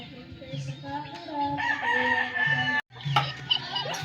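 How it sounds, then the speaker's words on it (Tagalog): A white rooster crows behind a house, a loud, drawn-out cock-a-doodle-doo with harmonic calls, followed by clucking and a second crow after a brief pause; a voice speaks briefly nearby. "It's a rooster."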